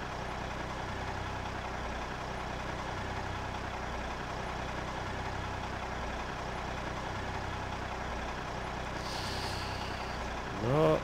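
A truck crosses a bridge in the video game Bridge Constructor, its low engine rumbling steadily and continuously, with a brief higher tone near the end.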